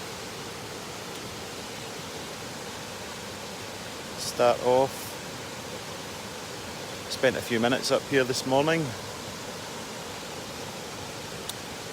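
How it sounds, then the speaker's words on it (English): A waterfall roars as a steady, broad wash of rushing water throughout, with a voice talking briefly over it twice. "having a wee look at the waterfall before I get started"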